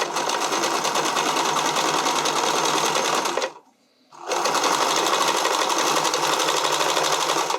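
A sewing machine runs a seam on a skating dress in two long loud continuous bursts of fast stitching, separated by a brief pause near the middle.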